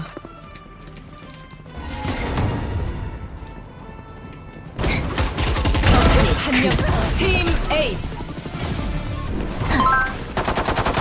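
Phantom rifle spray in a tactical shooter game: a quiet lead-in, then a sudden sustained burst of rapid gunfire from about five seconds on, with excited voices over the shooting.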